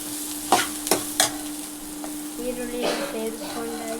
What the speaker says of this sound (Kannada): ಆನಿಯನ್ ನೋಡ್ತಾ ಇರೋದು ಚೆನ್ನಾಗಿ ಫ್ರೈ ಆಗ್ತಾ ಇದೆ.